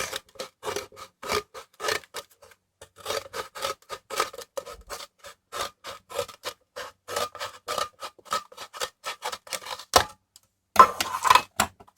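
Scissors cutting all the way around a cardboard box to make marker storage, a steady run of crisp snips and rustling paper-like rasps with brief pauses, close and alone without talk.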